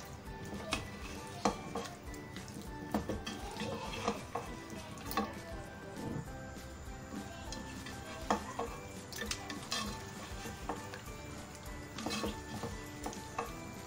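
Chicken korma is stirred in a pot, with a soft simmering sizzle and repeated light scrapes and clinks of the spoon against the metal, close and fairly quiet.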